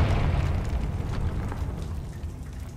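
The Confringo fire spell explodes in Hogwarts Legacy on PS5: a deep, rumbling burst that starts loud and slowly fades into a crackling tail, with no other sounds.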